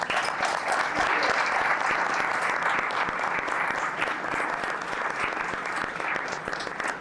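Audience applause at an auction-house event, a steady, even round of clapping from a crowd, sustained at moderate volume throughout without voices over it.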